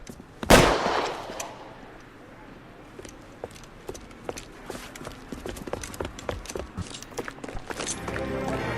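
Gunfire in LA Noire, a loud burst at the start followed by scattered sharp cracks and clattering impacts over a quiet background, with occasional distant shots.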